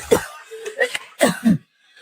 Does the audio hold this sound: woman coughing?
yes